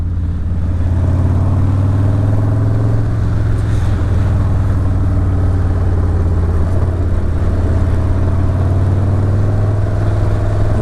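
Harley-Davidson 2020 Low Rider S motorcycle with a Stage 1 upgrade pulling hard in second gear, a loud, steady deep engine drone with strong low rumble and rushing wind, continuous throughout.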